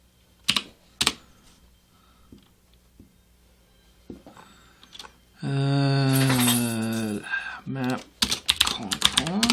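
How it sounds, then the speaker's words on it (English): Rust code for an Elasticsearch client is typed on a computer keyboard in bursts of crisp, close key clicks, with someone speaking for a stretch in the middle while typing continues. "I want to type the type parameters anyway."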